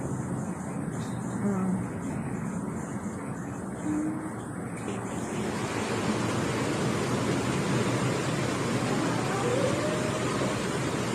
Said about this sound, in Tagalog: Ang lakas po ng ulan namin dito sa Hail